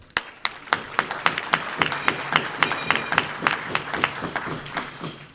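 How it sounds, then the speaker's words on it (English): A small audience at a Rotary Club of Tucson gathering claps briskly after a women's team is introduced, sharp individual claps standing out near the microphone over a steady patter of many hands, continuing for several seconds. "Hold your applause"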